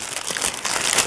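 Close, brief crinkling of a small package's wrapping as it is opened by hand, a dense rustle of plastic or paper lasting about a second with no talk.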